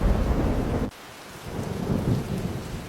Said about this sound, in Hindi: बारिश बहुत तेज है, बाहर जाना खतरनाक होगा।